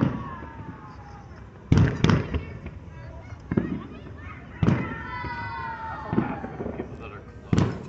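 Fourth of July fireworks in Athens, Tennessee boom in the distance every second or two, with crackling and whistles between blasts and voices talking underneath.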